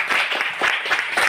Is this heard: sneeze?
no